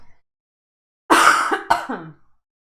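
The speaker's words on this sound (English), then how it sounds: "excuse me for coughing." Two close, loud coughs in quick succession, the first a longer harsh bark and the second a sharper short one, in an otherwise quiet room with no talking.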